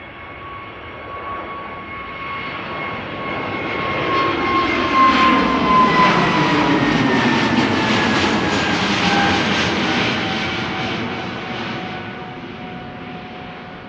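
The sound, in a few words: airplane departing Amsterdam Schiphol to London Luton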